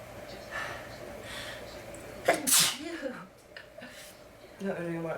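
A single loud sneeze from someone with a cold bursts out mid-clip, followed by a short snort-like breath, with soft vocal noises before and after.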